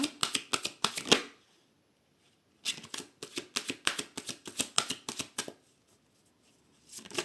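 Tarot cards being cut and riffled, crisp rapid flicks in two bursts separated by a short silence, close and clear with a last brief flutter at the end.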